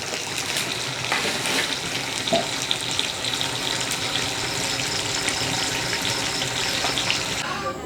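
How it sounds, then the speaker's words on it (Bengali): Fish frying in a pan over a village cooking fire after dark, a dense, loud, continuous hiss and crackle of hot oil close by, with faint voices in the background. "এখানে হলো মাছ ভাজি করতেছে ভাবি"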